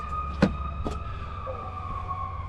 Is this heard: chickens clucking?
no